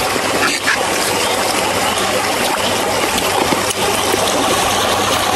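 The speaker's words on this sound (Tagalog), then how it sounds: "sinasabayan pa ng mga huni ng ibon at lagaslas ng tubig" Steady rushing babble of flowing water close by, continuous and fairly loud throughout, with faint other sounds beneath.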